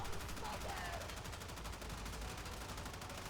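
Sustained rapid gunfire from a crowd of heavy gunner enemies in the Warframe video game, a dense continuous rattle of automatic weapons, steady and moderately loud throughout.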